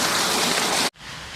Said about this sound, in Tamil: நம்ம பம்பு செட்லேருந்து மோட்டரை போட்டுவிட்டு தண்ணி பாஞ்சிட்ருக்கு பாருங்கள் மக்களே